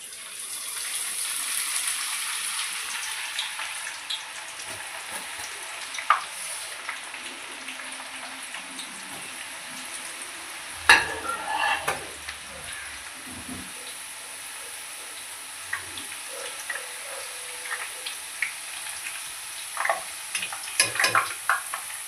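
Sliced onions fry in well-heated oil, a soft continuous sizzle with faint scattered crackles and a few stirring knocks, fairly quiet and steady throughout.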